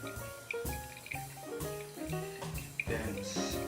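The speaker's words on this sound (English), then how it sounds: "Start again from the middle, pour from the middle," Hot water poured in a steady stream over coffee grounds in a pour-over brewer, a soft continuous trickle and splash sitting under a tonal, musical background.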